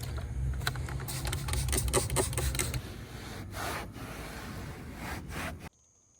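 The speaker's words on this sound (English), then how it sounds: "I would advise you to wipe this section down with some alcohol, some rubbing alcohol, just to clean it off" Rubbing alcohol being wiped across the bed rail area of a Ford F-150 truck bed before a Westin tonneau cover install, heard as close, steady scrubbing strokes that end in sudden quiet.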